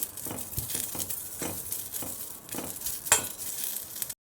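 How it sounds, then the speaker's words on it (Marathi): Chillies and garlic roasting and sizzling in a little oil in a pan, a steady crackling fry broken by occasional stirring scrapes and a sharp clink of a utensil against the pan, close and moderately loud. "थोडंसं तेल घालायचं म्हणजे चांगलं भाजते लगेच भाजतात मिरच्या"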